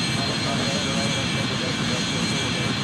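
Airliner jet engines spool up in the Airline Commander flight simulator game on Android at JFK, a steady, loud, broadband roar with no pauses, alone with no talk.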